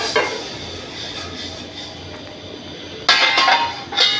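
Dry-roasted coriander seeds are tipped into a container, giving short bursts of clinking rattle: one near the start, a louder pour around the three-second mark and another just before the end, with a quiet kitchen hush in between.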